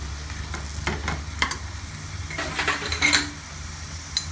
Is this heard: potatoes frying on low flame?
yes